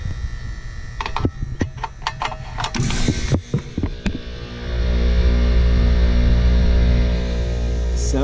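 An air conditioning compressor that struggled to start, after its scrolls were loosened, starting up: several mechanical clicks and clunks, then a loud steady electrical hum and motor drone that settles in and continues.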